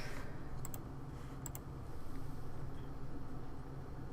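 A few quick, faint keystrokes sound on a computer keyboard, spaced in small pairs over a steady low background hum.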